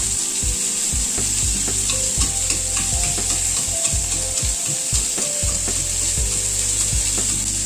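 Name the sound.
eggplant frying slowly on low gas flame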